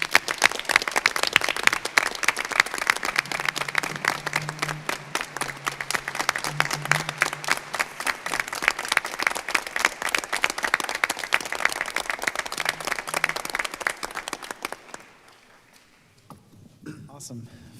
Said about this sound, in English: join me in a huge round of applause